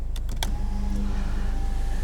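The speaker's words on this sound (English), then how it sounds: "I am gonna run windows up" Electric power windows motoring up inside a 2019 Mazda MX-5 Miata RF, a steady motor whine lasting about a second and a half after a few brief clicks, close and alone.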